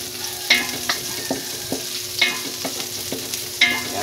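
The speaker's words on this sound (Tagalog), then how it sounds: "Ilalagay natin itong ating sibuyas. Ayan, ating mikos-mikos lang mga idol." Sliced onions go into a pan with garlic already fried brown, sizzling steadily while a spatula scrapes and clinks against the metal every second or so, close and clear.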